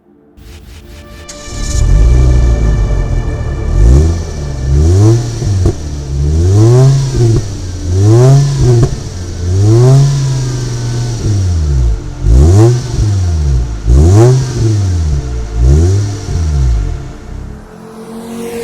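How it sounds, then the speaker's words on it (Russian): An aftermarket SPB sport exhaust for a Ford Focus ST/Volvo S40 II revs repeatedly, each throttle blip rising and falling in a steady rhythm of loud, throaty bursts over an idling engine. "Вот, собственно, как звучит данный выхлоп."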